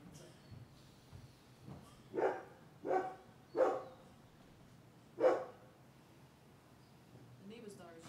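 A neighbour's dog barks in the distance during a quiet home yoga class, four or five muffled single barks spaced a second or so apart against low background hush.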